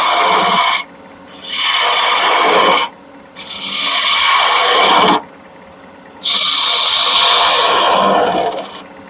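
A small spindle gouge cuts into a spinning wood piece on a lathe, rounding it over. It gives a loud, steady rasping hiss in four long passes separated by short, quieter gaps.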